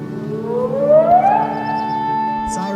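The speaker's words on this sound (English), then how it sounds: "Sirens are sounding right now. Okay, you can hear them right now." An outdoor civil defense siren wails in a news report, its tone rising in a slow sweep and then holding a steady high pitch, loud and carrying over faint background sound.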